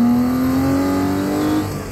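A Porsche engine howls steadily at around 5,000 RPM during spirited driving, a loud sustained tone rising slightly in pitch, heard alone with no talk.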